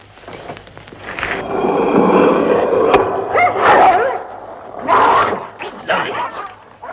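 Starving dogs, unfed for ten days, bark and yelp in excited overlapping bursts, loud and close, in a 1961 black-and-white comedy film.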